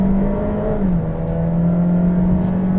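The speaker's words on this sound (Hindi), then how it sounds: "अब अगर इसको थोड़ा सा एक्सेलरेट करता हूँ, इसको मैं जाता हूँ स्पोर्ट्स मोड के अंदर" A 2015 Honda Vezel Z Package accelerates in sports mode, its engine giving a steady, loud hum whose pitch dips slightly and then holds under a smooth whir of road noise.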